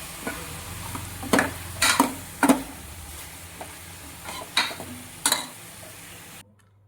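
Chicken pieces drop into a hot pan for curry, each addition giving a sharp sizzling burst, with stirring scrapes in between and a steady low frying hiss underneath.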